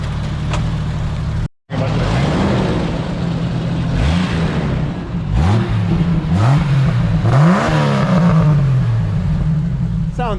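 A Jeep Cherokee with a 4-liter six-cylinder engine, set up as an off-road trail rig, revs repeatedly, rising and falling in several strong pulls close by, with people talking in between.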